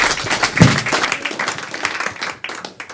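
A comedy club audience claps in loud, uneven bursts that swell and thin out, with scattered individual claps standing out close by.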